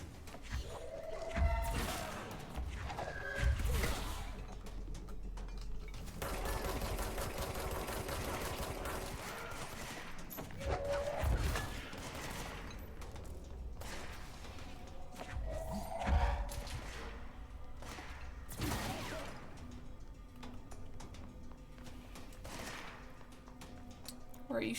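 Gunfire in the video game Control, repeated bursts of shots and heavy thuds in irregular clusters, loud and close, mixed with game effects and occasional speech.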